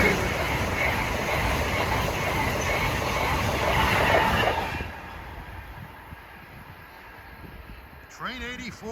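Amtrak train 84, running from Norfolk to New York, passes Princeton Junction in a loud sustained rushing roar that drops off sharply about halfway through, leaving a lower rumble as the train recedes, followed by a brief squeal at the end.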